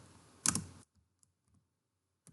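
Fingers type on a computer keyboard up close in a quiet room, starting with a quick loud burst of clicks. A few faint, scattered keystrokes follow, then one last tap.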